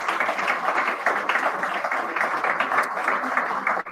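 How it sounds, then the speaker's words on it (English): Applause from an audience at a live event, dense steady clapping that fills the whole clip at an even level before cutting off abruptly at the end. "Well, Noel, I think that deserves a round of applause, actually."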